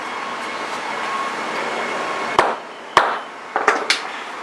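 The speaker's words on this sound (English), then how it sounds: "hit it with your big hammer" Four sharp hammer blows strike a metal wire crimp at irregular intervals over a steady background hum.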